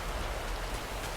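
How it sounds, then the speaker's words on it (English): Rain falling in the video game Disney Dreamlight Valley, a steady dense patter of drops, continuous and moderately quiet with no voices. "I'm sick and tired of all this rain."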